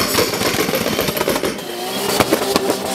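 A Nissan 200SX with a 600 hp RB26DET inline-six at 1.5 bar boost roars at high revs with a harsh, steady rasp and rising pitch, close and loud, with gritty texture of tyres spinning.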